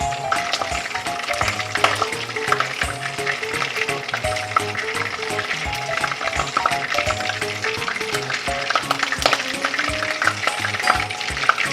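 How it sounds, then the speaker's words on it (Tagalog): Garlic and onion sautéing in a pan for ginisang baguio beans with mushrooms, loud continuous frying crackle with repeated clanking and scraping of a spatula stirring, close up, with no voices. "igisa na natin yung bawang"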